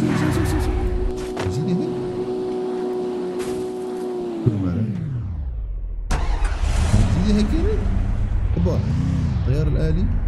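A car engine in a video game hums at a steady tone, then winds down in pitch and revs up again with rising and falling sweeps, while someone talks over it throughout.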